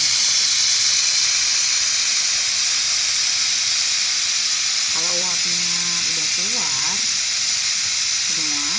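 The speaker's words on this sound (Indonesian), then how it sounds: "Dia berisik, SPC itu berisik kalau hanya mengeluarkan uap aja." Steam rushes in a loud, continuous hiss from the release valve of a Vienta smart pressure cooker, unbroken throughout, while a person talks over it in the second half.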